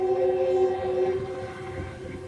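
A train rumbles along steadily at moderate distance, with a sustained horn-like tone at the start that fades out.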